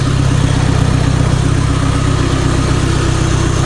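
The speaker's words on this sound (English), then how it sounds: "Have the car idling." A Toyota Highlander's engine idles steadily and loudly up close, a constant low rumble with an even pulse that never changes pitch, and no one talks over it.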